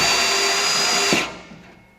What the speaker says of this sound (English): So you're drilling slow with pressure.